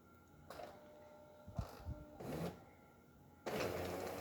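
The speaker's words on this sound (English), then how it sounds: "So we're just going to retract back. Machine's going to remember where it's at once it gets into home position." Jura Ena 4 coffee machine's brew unit motor whirring as it retracts to its home position after a full tune-up, several short mechanical runs separated by pauses, with clicks and a final longer whir, quiet and close.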